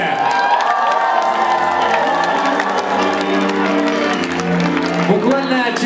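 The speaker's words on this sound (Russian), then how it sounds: "Давайте подарим вам ваши аплодисменты." Audience at an awards final cheers, whoops and applauds, a loud crowd roar with shouting and clapping that carries on throughout, joined by children's shrieks.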